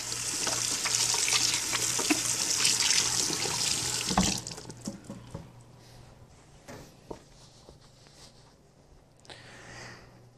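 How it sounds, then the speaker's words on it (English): Water runs hard from a sink faucet while hands are washed underneath, loud and steady for about four seconds, then stops, leaving faint drips and small handling sounds. "The first thing we're going to do is just wash our hands"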